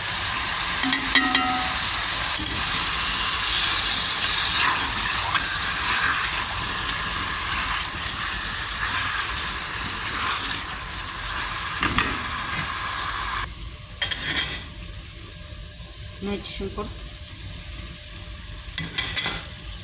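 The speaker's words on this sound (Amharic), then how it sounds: "ነጭ ሽንኩርቱ፣ ቃሪያው፣ ዶሮ ሽንኩርቱ አድርጌ በደንብ ከጠበስኩ በኋላ እሳቱን ቀነስ አድርጌ ጠብሼዋለሁ።" Garlic, chili, chicken and onion fry together in a pan, giving a steady sizzle broken by scraping stirring strokes that grow sparser and more irregular toward the end, with no voices.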